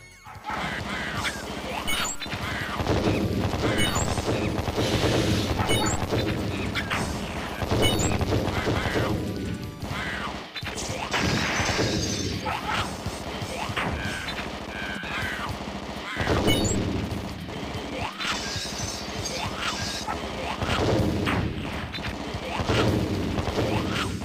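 Dense, continuous arcade-style gunfire with repeated crashing explosions and game sound effects from a light gun video game, loud and busy throughout with little pause.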